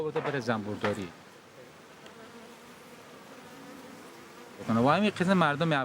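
Honeybees buzz around hives in Afghanistan's Panjshir valley, a low steady drone in the background between spoken passages, with talk at the start and again at the end.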